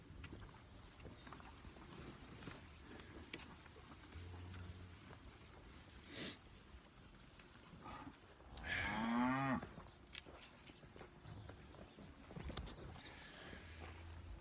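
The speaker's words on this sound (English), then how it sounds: "It's now about cattle, calves." Cattle and calves on a farm, with a single low moo rising out of faint outdoor background noise around the middle, fairly distant and brief, no talking.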